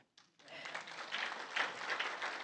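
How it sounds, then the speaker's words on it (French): Applause from a church worship audience cheering the technical crew, a dense broadband patter of clapping that starts abruptly after a brief pause and swells steadily, with faint scattered voices mixed in. "Est-ce qu'on peut acclamer l'équipe technique?"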